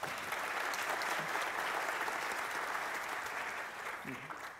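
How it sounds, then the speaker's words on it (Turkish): Sustained audience applause at a 2023 cloud computing and AI summit, a thick, even wash of clapping from a large crowd, with faint voices surfacing near the end as it begins to taper. "Ben sizlerden BTK'ya ve Huawei'ye bir alkış rica ediyorum."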